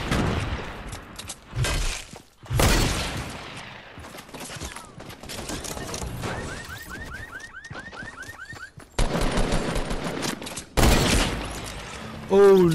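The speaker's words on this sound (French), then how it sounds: "Oh, le premier kill au fusil." Rifle gunfire from the Fortnite battle royale game comes in loud bursts of shots, broken up by quieter stretches filled with game effects and a warbling alarm-like tone. A voice talks over parts of it.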